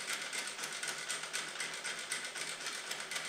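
Sewing machine stitching curves in fabric, a steady, close, fast-ticking needle chatter running unbroken throughout.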